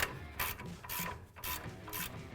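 A nut being tightened on a Ford Raptor front suspension, four evenly spaced ratcheting bursts of metallic clicking, close and fairly quiet, with no voices.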